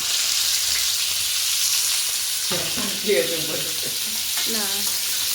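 Potato pieces fry in hot oil for aloo dum, a large batch for about fifteen to twenty people, giving a steady, loud, close sizzle throughout. Voices talk briefly partway through.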